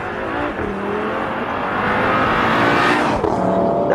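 An Audi RS3 Sportback from 2018 accelerates hard, its engine note rising loud and close over four seconds with a strong, continuous surge and no talking.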